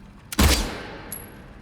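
A single sharp gunshot from the first-person shooter Delta Force cracks loudly and close, then decays quickly into a brief tail, followed by a faint high-pitched tone.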